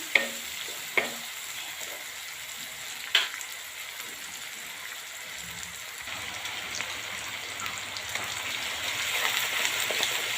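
Soft, steady sizzling of vegetables frying in a pan, with a few sharp clicks and a faint stir near the start, no one talking.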